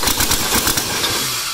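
Sears Hydro diesel engine cranked by the starter, a loud, rapid rhythmic chugging of repeated compression pulses that slows and fades toward the end.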